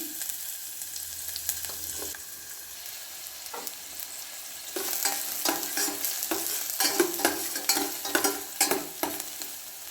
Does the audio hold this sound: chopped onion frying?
yes